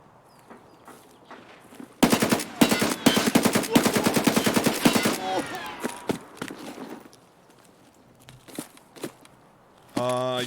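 Full-auto rifle fire in Escape from Tarkov rips out in a loud sustained burst of about three seconds, followed by scattered single shots, footsteps and gear clatter, with a short mechanical rattle near the end.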